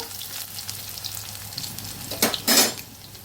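Garlic sizzles in a pan with a soft, steady fry under a few utensil clinks and scrapes, ending in a short louder burst of stirring near the end.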